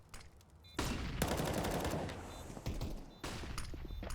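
Rapid bursts of AK rifle fire during a professional Counter-Strike esports match, loud and close, with several sharp volleys separated by brief gaps and gritty in-game ambience between them.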